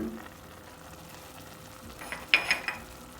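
Salted ground meat for a pide filling sautés in a pan, giving a soft, steady low sizzle, then a few clattering spatula stirs and scrapes near the end, with no talking.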